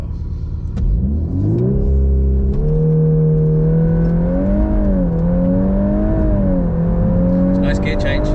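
A development VW Golf R Mk8 accelerating hard with a rising engine note that dips and climbs again through a gear change, loud and close from inside the car, with people talking over it.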